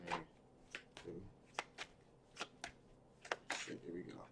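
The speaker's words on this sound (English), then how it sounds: "One more shuffle." Tarot cards being shuffled by hand, a string of soft riffling snaps and taps in an uneven rhythm, close and fairly quiet, with faint talking underneath.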